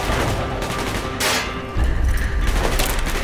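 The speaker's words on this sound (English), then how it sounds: "Gunfire's drawing attention." Gunfire in the Call of Duty: Black Ops video game, dense bursts of automatic and rifle fire with booming impacts, loud and continuous throughout, no talk.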